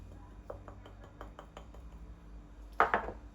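A spoon or whisk knocks rhythmically against a bowl while sugar-pie batter of flour and starch is stirred, about nine light clinks building into a louder clatter near the end; no one speaks.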